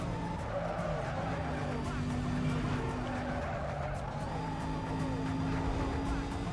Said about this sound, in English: I would say none of the Mercedes cars really do justice sound-wise.